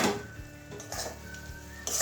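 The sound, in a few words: lid being taken off a cooking pan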